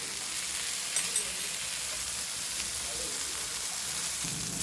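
Pomfret coated in rava frying in a pan, a steady close sizzle with a couple of brief clicks as the fish is turned partway through.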